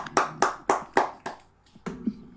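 A small round of applause for guests: about five sharp, evenly spaced hand claps close to the microphone, then a couple of softer taps as it tails off.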